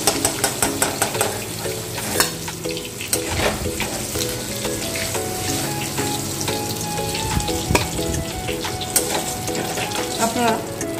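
Rui fish roe frying in oil in a pan gives a continuous sizzle, broken by frequent sharp clinks and scrapes of a utensil against the pan, all close and fairly loud.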